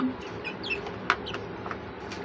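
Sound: chickens clucking while eating

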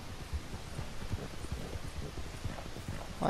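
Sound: horse hooves clip-clopping in the video game Red Dead Redemption 2

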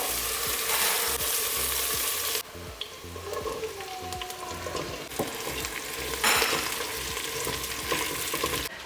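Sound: pasta sauce being stirred in a frying pan

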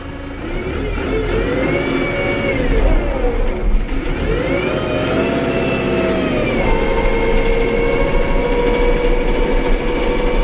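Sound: Hattat 285S tractor engine with turbo and side exhaust

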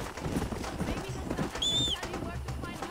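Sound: horse hooves in a video game

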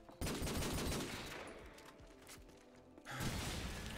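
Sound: gunshots fired at the player in a video game

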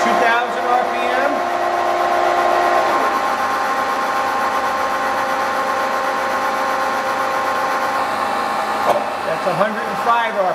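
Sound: Cincinnati Cinova universal milling machine spindle running at 2000 RPM

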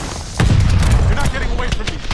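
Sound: grenade explosion and gunfire in video game Call of Duty Vanguard

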